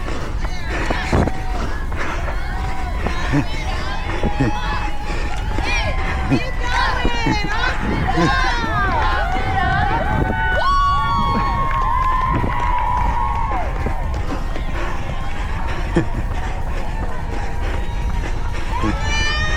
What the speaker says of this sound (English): All the people cheering up makes me so happy.